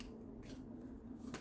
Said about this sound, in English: I'm going to shuffle this again and pull from the top